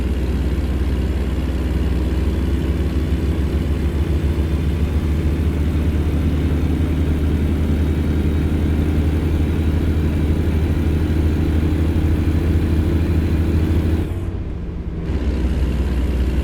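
A heavy Kenworth W900 truck engine in American Truck Simulator drones steadily at a constant rumble, loud and close, then briefly dips before resuming.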